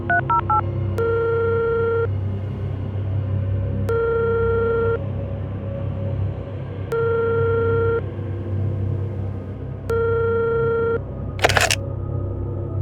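A telephone call: quick dialing tones at the start, then a ringback tone repeating in four evenly spaced rings over a low steady hum, ending in a brief click as the line picks up.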